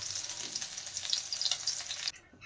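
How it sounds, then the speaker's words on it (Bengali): Cauliflower sizzles steadily in hot oil in a pan, a close crackling hiss with light stirring scrapes, cutting off abruptly near the end. "ফুলকপিও নেড়ে চেড়ে ভালো করে ভেজে নেব,"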